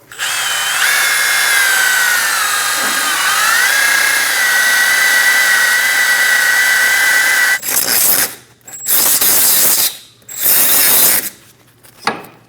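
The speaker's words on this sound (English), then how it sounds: "I'm going to go around with a wire brush and clean the inside of this knuckle." A rotary wire brush on a drill scours corrosion from the inside of a Scion xB front steering knuckle, a loud steady whine for several seconds, then a series of short bursts with brief pauses between them.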